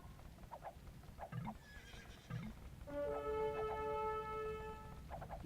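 Horses in Age of Empires neigh, a couple of loud, shrill whinnies over soft clip-clopping hooves, with a chime-like tone ringing in the middle.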